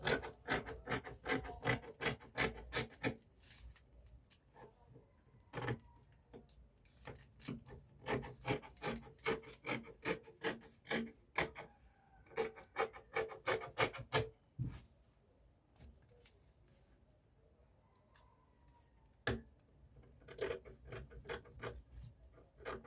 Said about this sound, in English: I'm going to go ahead and cut it out.